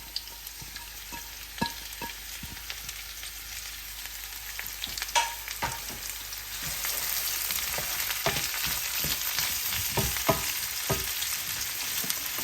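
Two large chopped onions go into a pan with browned garlic, bringing sharp clacks and scrapes of stirring followed by a louder, steady sizzle that holds for the rest of the time, close and without speech.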